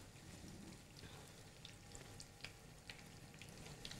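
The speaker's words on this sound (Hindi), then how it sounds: "ये देखें बड़े ज़बरदस्त से यहाँ फ्राई हो रहे हैं" Dough pieces fry in hot oil on a cooking show, a steady faint sizzle with scattered soft pops and crackles throughout, no voices over it.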